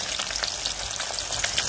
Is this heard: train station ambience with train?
no